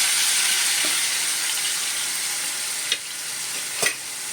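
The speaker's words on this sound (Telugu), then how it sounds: "ఉల్లిపాయలు పేస్ట్ పట్టుకున్నాం కదా, ఇది వేస్తున్నానండి." Onion paste frying in hot oil gives a steady, loud broadband sizzle that stays even throughout, with a couple of brief clinks or stirring taps near the end.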